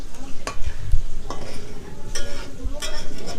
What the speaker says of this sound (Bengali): এবার ছানা আর দুধটাকে নাড়াচাড়া করে একটু শুকনো শুকনো করে নিতে হবে।